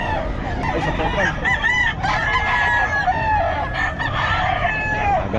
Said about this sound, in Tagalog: Maganda ng manok ni boss Apon